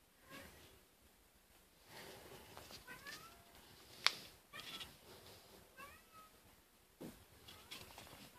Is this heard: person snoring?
no